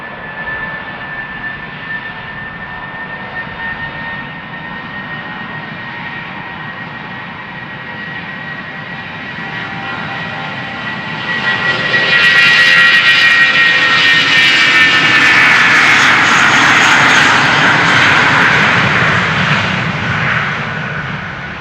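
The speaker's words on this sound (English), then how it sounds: "an Airbus from Welling takes to the sky" An Airbus airliner takes off from runway 36L at Amsterdam Schiphol Airport. Steady distant jet roar builds and swells loudly around the midpoint as the plane climbs away, then stays strong to the end, with no voices.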